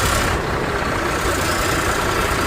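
An Eicher 551 4WD Prima G3 tractor engine pulls in fourth gear, giving a steady, close, continuous rumble with no change in pace and no voices.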